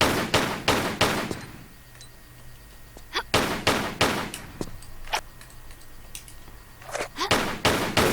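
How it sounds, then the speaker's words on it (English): Gunshots fired at vases in a Tomb Raider custom level: a quick volley of sharp, loud shots, a pause, then isolated single shots and a second rapid cluster near the end, with small cracks and clatters between them. "So what we actually want to do is shoot these vases."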